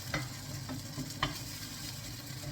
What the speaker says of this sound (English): after you literally give it a good stir around